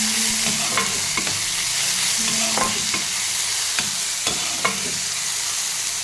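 Onions, green chillies and tomatoes sizzle steadily in a pan while a spoon stirs them, scraping and clinking now and then against the metal, with no talk.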